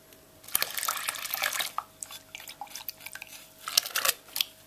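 Hop tea splashes and trickles as it is poured into a homebrew IPA batch, with a few sharp drips and clinks, fairly close and moderately loud.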